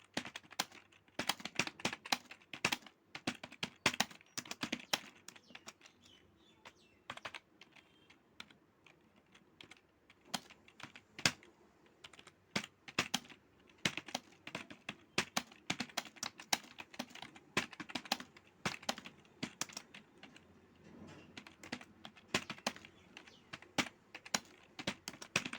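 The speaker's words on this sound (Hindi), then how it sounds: "यहाँ पर मैं आपको टाइपिंग करके दिखाता हूँ" Fast typing on a mobile phone's on-screen keyboard: dense, irregular taps and clicks in quick bursts, close but quiet, running steadily with brief pauses and no voices.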